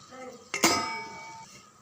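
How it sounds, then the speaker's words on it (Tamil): A steel plate set down as a lid on a pot of kurma gives a single bright metallic clang with a ringing tail that fades over about a second, close and alone. "அப்படியே தட்டு போட்டு மூடி வச்சிடலாம்"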